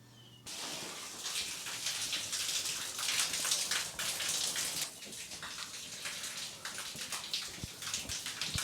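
Steady, loud hiss of water spraying hard from an uncapped PEX plumbing line, a broad rushing spatter that starts abruptly and continues without pause, with no voices.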